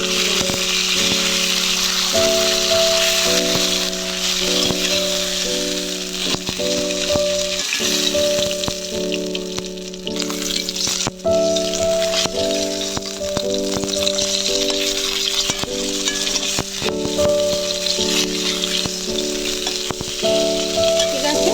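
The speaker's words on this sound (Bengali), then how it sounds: "এই দেখো বন্ধুরা আমার মাছগুলো ভাজা হয়ে গেছে" Katla fish frying in a pan of hot oil sizzle and crackle steadily up close, with rattles and clinks of a utensil against the pan and a steady tonal hum underneath.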